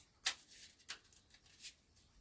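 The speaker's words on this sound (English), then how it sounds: "the cards just don't want to shuffle today" A deck of reading cards being shuffled: a few brief, soft papery riffles spaced about half a second apart, quiet and close, with no talking.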